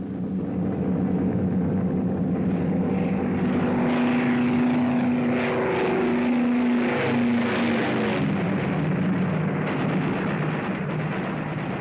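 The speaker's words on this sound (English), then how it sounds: "Bombers are approaching the target." WWII bomber formation in flight, the propeller engines giving a loud, dense, continuous drone with a wavering pitch and no break throughout.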